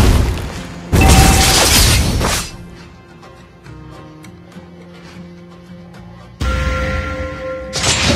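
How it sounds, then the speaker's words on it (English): A defensive turret is destroyed in the mobile battle game Mobile Legends. A loud, crashing explosion is followed by a quieter stretch of tonal game effects, then a second heavy burst of crashing sound near the end. "Our turret has been destroyed."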